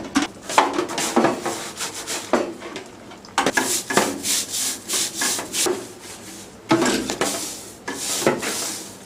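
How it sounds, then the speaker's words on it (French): A brush scrubs the greasy parts of a deep fryer in repeated rough strokes, loud and close, in bursts separated by short pauses. "À l'aide de la brosse, nous allons frotter les parties graisseuses."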